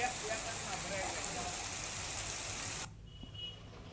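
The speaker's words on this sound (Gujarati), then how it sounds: "ગીર જંગલ વિસ્તારમાં વરસાદ વરસી રહ્યો છે" Steady rain falling over the Gir forest area in Gujarat, a dense continuous hiss that cuts off abruptly near the end, leaving a quieter background.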